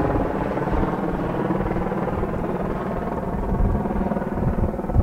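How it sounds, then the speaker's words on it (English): A helicopter circles close overhead, its dense rotor drone loud and steady throughout with slight swells in volume and no talking. "there's a fucking chopper above my head"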